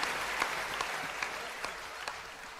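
Audience applause at a Hindi comic poetry gathering, a hasya kavi sammelan, with steady dense clapping throughout and a few louder individual claps standing out, no voices.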